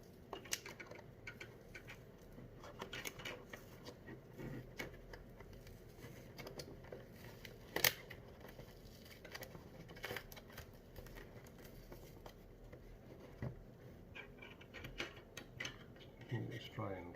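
Scissors snipping and plastic crinkling as product packaging for a Rode Wireless GO II microphone is cut open during unboxing, faint scattered clicks and rustles with one sharper snap in the middle.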